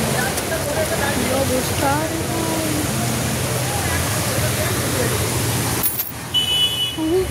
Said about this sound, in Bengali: হু করে জলের স্রোত বইছে।